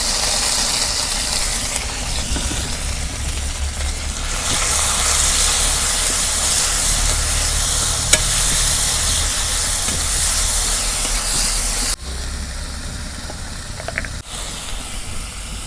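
A thick paste of ground onion, garlic, ginger and green chili fries in hot oil, giving a loud, continuous sizzling hiss close up that eases slightly near the end.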